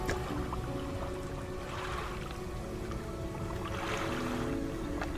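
A fishing boat engine in the video game Dredge gives a steady low drone with a faint tonal hum, and soft watery swells rise and fall twice over the engine.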